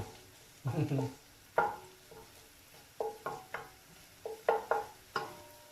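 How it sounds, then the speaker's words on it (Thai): Garlic frying in a pan while being stirred, with irregular bursts of sizzling and scraping strokes separated by brief quieter pauses, close and fairly soft. "เจียวกระเทียมให้เหลืองอีกนิดนึงก่อน"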